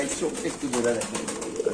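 Fancy pigeons of the Prince breed coo on a Bangladeshi pigeon farm, soft throaty calls repeating in short bursts close by, with a person talking over them.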